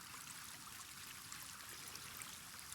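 Water trickling and splashing gently onto a farm plot in Palworld, a soft continuous stream of fine droplets, faint and steady with no talk.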